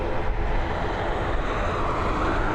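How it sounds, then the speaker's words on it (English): A Boeing 737 arrives at Dublin Airport on a short flight from Kerry, its engines a continuous broad roar that holds steady and close for the whole stretch, with no voices. "Next arrival, another 737, this time coming in from Kerry."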